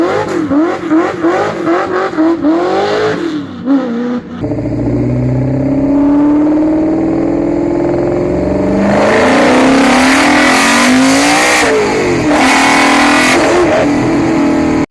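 A Ford GT40 race car in the Need for Speed video game revs hard through the gears, its engine note climbing, dropping at each shift and climbing again, loud and close with no talk.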